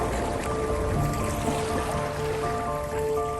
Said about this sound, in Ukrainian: А море вже не тихе, похмуре. Хвилі шумлять, вітер гуде.